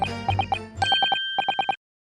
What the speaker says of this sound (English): listening to that music box for even a few seconds